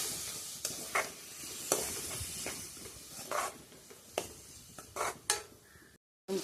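Onions, green chillies and tomato fry in a pan while a spoon scrapes and stirs, giving a soft sizzle broken by repeated short clinks and scrapes, fairly quiet and close.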